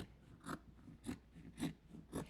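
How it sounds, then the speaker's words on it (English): Scissors snip through four stacked layers of t-shirt fabric in four steady, evenly spaced cuts, each a short crunchy slice heard close up with no talking. "This is why you need a good pair of scissors, because you're actually going through 4 layers of fabric here"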